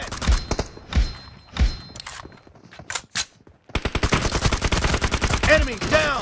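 Gunfire in PUBG Mobile, a few heavy single shots followed by a fast continuous automatic burst, close and loud, with faint game voice announcements in the mix.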